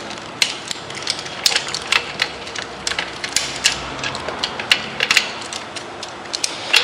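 A wrench tightens the stem bolt on a beach cruiser bicycle, giving repeated short ratcheting clicks and metallic ticks at an uneven rhythm, close up and moderately loud against a faint background hiss.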